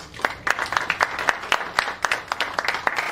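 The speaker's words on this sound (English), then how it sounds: "Again, big round of applause for him" Audience applause at a follies-style stage show, a thin, moderately distant patter of scattered hand claps with an uneven rhythm, fairly quiet and brief.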